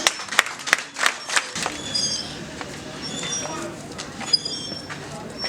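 A crowd at a wedding reception applauds the couple: a few sharp claps at first, then a dense continuous clapping wash with voices mixed in.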